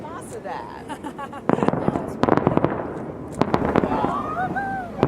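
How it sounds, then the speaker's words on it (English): Chinese New Year fireworks and firecrackers explode in New York City in loud, rapid crackling bursts and pops, while excited voices exclaim and cheer over the noise. "This is better than the fireworks that they have on videos."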